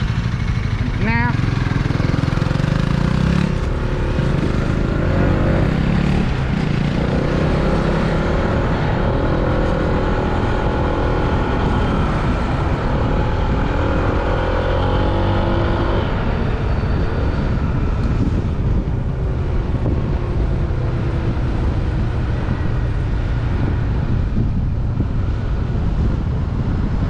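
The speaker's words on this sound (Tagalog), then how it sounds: "Bumilis na itong motor na to." A motorcycle engine runs continuously during a ride, its drone mixed with heavy wind buffeting on the microphone, loud and steady throughout, with a person talking over it.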